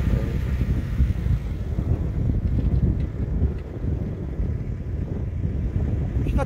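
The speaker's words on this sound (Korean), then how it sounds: "그런데 바람도 불고, 날씨가 굉장히 추워요." Cold winter wind at about minus ten degrees buffets the microphone at an excavator work site where flume pipe is being laid, a loud, steady roar with no talking.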